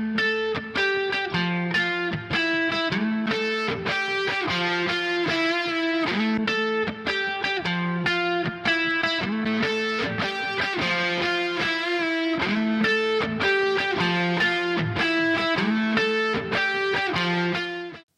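Distorted electric guitar through a Neural DSP Archetype Nolly amp plugin with an overdrive pedal plays a steady, chugging rock rhythm of repeated chords, dense and loud throughout with no voices.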